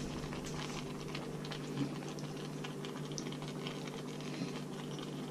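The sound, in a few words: kimchi-jjigae stew reboiling in pot with tofu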